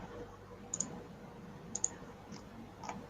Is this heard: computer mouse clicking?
yes